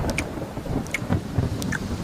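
A thunder-and-rain sound effect for a Bengali horror story: faint pattering drops and scattered light taps over a soft low rumble, brief and fairly quiet.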